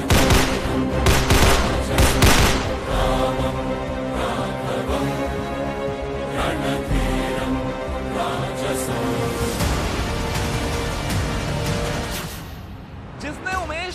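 Rapid bursts of gunfire ring out in a staged police encounter recreation at the spot where a gangster was shot down, sharp volleys and booms repeating across the scene with voices talking over and between the shots.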